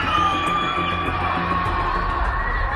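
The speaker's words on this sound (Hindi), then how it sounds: "ये चीख और बदहवासी चीन के शहर शंघाई में है।" Crowd of people screaming and wailing in panic in Shanghai during a lockdown, a loud, continuous mass of overlapping yells and cries.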